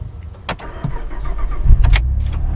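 An Alfa Romeo with a 6-speed manual is started with the key: a couple of sharp clicks, then the engine cranks and catches with a rising rumble that settles into a close, steady idle.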